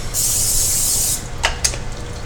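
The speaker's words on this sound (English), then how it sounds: "Spray it with cooking spray." Cooking spray hissing steadily onto soft tortillas in a pan for about a second, followed by two short quieter spritzes, close and alone.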